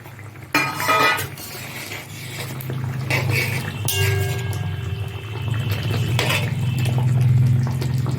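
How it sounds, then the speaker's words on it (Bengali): Pan of Bengali Rupchand fish curry gravy bubbling on the stove as fish is added, with clattering cookware, a scrape and steady boiling hiss and burble, close and moderately loud, no talking. "ঝোল ফুটে গেছে, এখন আমি ঝোলের মধ্যে মাছ দিয়ে দিচ্ছি।"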